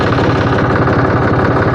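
A diesel tractor engine idles close by, a loud, steady, rhythmic chugging with a rattling vibration and no voices.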